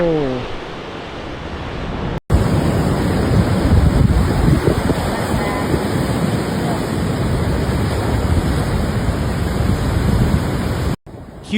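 Huge hurricane-driven waves and rough surf pound the Outer Banks coast of North Carolina, a loud continuous roar of breaking water with heavy wind buffeting the microphone, cut by brief gaps near the start and end.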